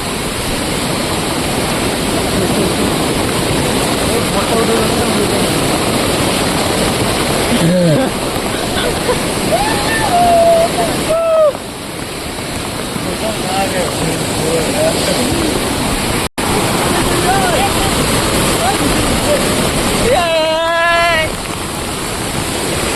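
Water rushes down Amboli waterfall with a loud, continuous roar. Voices call out briefly over the torrent at a few points.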